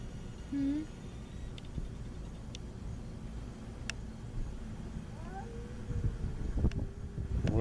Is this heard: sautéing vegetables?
no